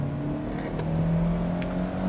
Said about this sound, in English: now let's put the car into sports and drive